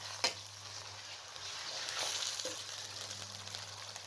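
Meat sizzles steadily in oil in a pan for a dhaba-style daal mash and gosht, a soft, continuous crackle with a few brief stirring sounds, fairly quiet throughout.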